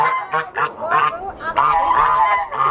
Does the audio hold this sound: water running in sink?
no